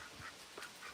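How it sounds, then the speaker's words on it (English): Ducks quack faintly a few times outdoors on a Virginia homestead, short scattered calls over a soft background of air and ambient noise. "You can hear the ducks."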